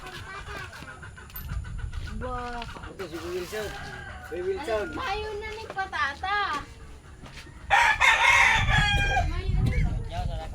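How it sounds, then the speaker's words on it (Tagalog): A rooster crows and chickens cluck amid a busy outdoor scene at a rural house in Bicol province, with people talking over the birds throughout. "Yan po, may manok."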